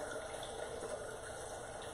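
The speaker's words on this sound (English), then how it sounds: "I'm going to add some level 4 alkaline water." Alkaline water poured into an egg mixture in a home kitchen, a steady continuous trickle with no talking.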